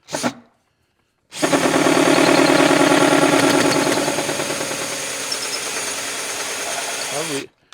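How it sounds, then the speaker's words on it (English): An electric drill with a dull bit whines steadily at close range for several seconds, loud and continuous, its pitch dipping slightly as it bores through wood, hitting screws, before spinning down. "I hope this drill has enough power."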